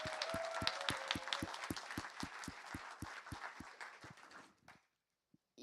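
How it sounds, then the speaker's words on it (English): An audience at a TEDx university event claps in a steady, rhythmic unison beat, fairly distant and moderate in volume, before the applause fades out and leaves near silence. "So big round of applause for you."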